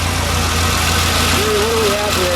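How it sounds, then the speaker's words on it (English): A 1960 Ferrari 250 GT Cabriolet's all-aluminum V12 with three carburetors idles steadily close by, a continuous low rumble with faint tonal whine, while a person speaks over it. "We have a V12 with 3 rubber carburetors. Built in 1960. All aluminum block. It's a beautiful engine. Beautifully sounding engine."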